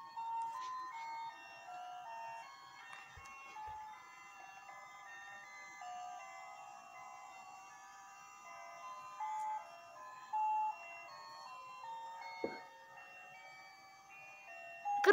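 Electronic melody played on a toy indoors, a thin tinkling tune running continuously at low volume with a few brief knocks and handling noises.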